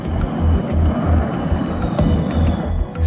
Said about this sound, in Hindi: लद्दाख के आसमान में पिछले कुछ दिनों से भारतीय लड़ाकू विमानों की गड़गड़ाहट इसी तरह